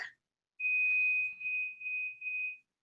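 A clear, high electronic beep sounds in one long tone, followed by two shorter ones, in otherwise near silence.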